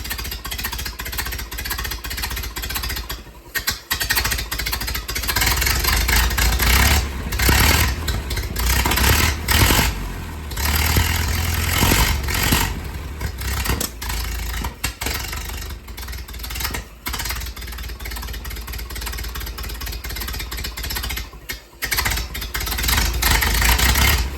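A cold 1929 Ford Model A Tudor sedan hot rod engine runs through a side exhaust muffler, a loud, continuous, slightly rough idle with uneven surges throughout and no talking.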